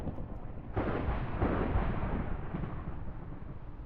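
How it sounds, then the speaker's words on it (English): Loud rolling thunder during a storm in the GTNH Minecraft modpack, a sudden crack followed by a long, deep rumble that sustains and slowly fades, with no talking. "I've had enough with the thunder. It's very loud."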